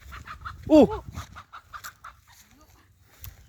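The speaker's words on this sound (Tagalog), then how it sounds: "may manok na rito ah." A brief burst of clucking from a nearby chicken, with a short exclamation and faint talk around it.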